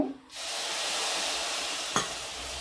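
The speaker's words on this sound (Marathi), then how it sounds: "आता आपण थोडंसं याच्यात पाणी टाकू" Water hits hot jaggery in a pan and bursts into a loud, steady sizzle and hiss that holds for a couple of seconds, with one brief clink partway through.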